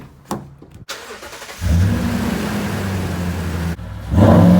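A Toyota Tundra 5.7 V8 starts after an oil change: a short cranking stutter catches into a steady, close idle that holds, then rises into a louder rev near the end.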